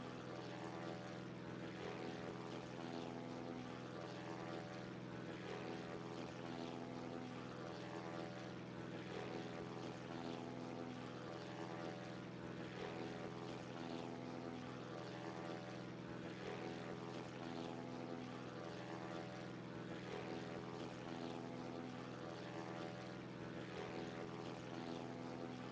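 A propeller-driven fighter engine drones steadily in flight within a combat flight game, a constant, fairly loud tonal hum with layered harmonics and no break, no talking heard.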